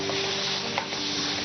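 Two large tomatoes cut in long pieces drop into thickened chili powder and spices frying in a pan, giving a low steady sizzle with light stirring scrapes close up and no talk.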